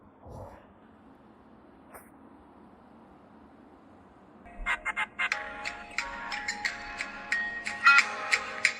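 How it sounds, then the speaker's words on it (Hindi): A phone ringtone from a call from dad sounds after a quiet stretch, a rhythmic tonal chiming that starts with sharp pulses and turns into a steady repeating melody. It plays near and fairly loud, with no talk over it. "लो मेरे बाप का फोन आया फिर से।"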